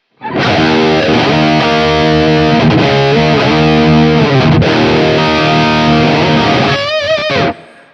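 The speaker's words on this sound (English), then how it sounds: "the last preset of the driven section, which is called BT Encore 50E, and it sounds like this" Electric guitar played through a BT Arkon 50 amp on its Encore 50E driven preset, thick distorted chords and sustained notes ringing loud and close, ending in a short bend before cutting off.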